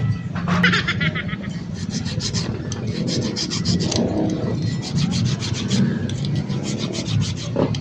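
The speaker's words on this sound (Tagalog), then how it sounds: "So linisin na po natin to gamit lang tong kikil, patagin lang natin ha." A small metal file scrapes back and forth across an ignition contact point, a continuous close rasp with rhythmic strokes running throughout, steady and fairly loud.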